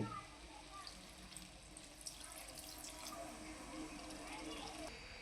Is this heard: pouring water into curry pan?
yes